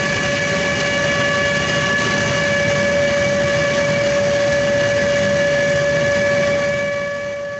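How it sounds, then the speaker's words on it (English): Loud, continuous industrial roar from steam traps across a plant site, a constant hiss with strong sustained whistling tones layered over it, unchanging for several seconds before easing slightly at the end. "These are steam traps across the site, lots of different steam traps, 105 dBA"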